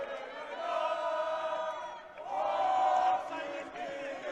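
A crowd of Turkish fans at a U23 world championship basketball game cheers and chants a celebratory song, sustained massed voices swelling in two waves from a distance.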